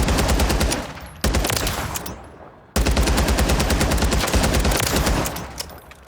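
Attack V rifle firing full auto in Warzone 3: rapid, dense bursts of gunfire in two long strings, broken by a short gap with a fading tail, loud and close.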